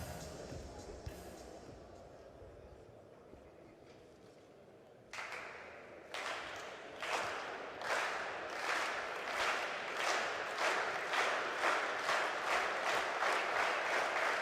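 A table tennis crowd at a WTT Zagreb men's singles final between two Chinese players, starting as quiet murmuring, then breaking into loud, steady rhythmic clapping that keeps time and grows fuller toward the end.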